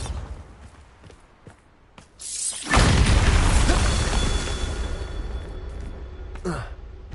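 A Bombarda spell explodes in Hogwarts Legacy, a loud broadband blast that hits suddenly after quieter clicks and footsteps, then rumbles and crackles with debris for several seconds before a final sharp burst.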